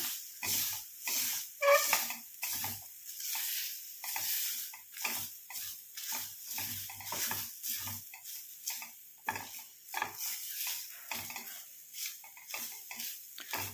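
A hair dye mixture is fried and stirred in a pan, with repeated scraping strokes and a soft sizzle in an irregular rhythm, close and fairly quiet, with no speech.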